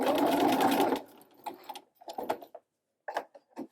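A sewing machine hems fabric in one short close burst, then falls quiet, leaving a few faint handling knocks and rustles.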